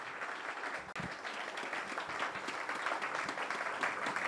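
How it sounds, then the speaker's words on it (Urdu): A church congregation gives loud, sustained applause in welcome during a worship service, with dense clapping that continues steadily throughout. "خدا کے زندہ کلام کو اور خدا کے بندہ کو زوردار تالیوں سے ویلکم کریں گے"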